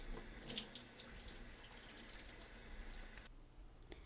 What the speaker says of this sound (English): Run the fish under water.